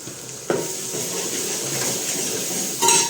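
Chili powder, turmeric and coriander-cumin sizzling in a hot pan while cooking green pigeon pea dal, a steady close frying hiss with a sharp burst as the spices go in and another near the end.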